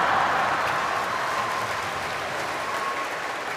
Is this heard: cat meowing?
no